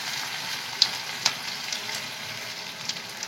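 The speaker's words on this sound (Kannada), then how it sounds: "ಒಗ್ಗರಣೆ ಪಾಡ್ದು ನೀರುಳ್ಳಿ ಪಾಡೋಡು ಬೆಳ್ಳುಳ್ಳಿ" Onion and garlic sizzle in hot tempering oil, a continuous bright hiss close by, with a couple of sharp clinks from a utensil against the pan and no voices.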